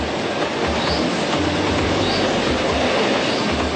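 A train passes close by with a steady, loud rumble and clattering wheels on the rails, with faint squeals over the roar and no break, no voices.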